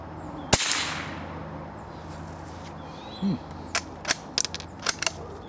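A single sharp, quiet crack of a CCI subsonic 45-grain .22 LR rifle shot, followed by a brief chirp and a series of faint metallic clicks.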